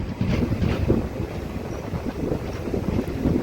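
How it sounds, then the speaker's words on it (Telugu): A train rolling into Baiguda railway station, heard from inside a general coach on the Rayagada–Koraput line, a steady low rumble of the wheels with wind buffeting throughout. "సో మన ట్రైన్ అయితే బైగూడ రైల్వే స్టేషన్లోకి అయితే వచ్చేసింది ఫైనల్లీ"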